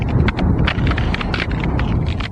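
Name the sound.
footsteps crunching on ice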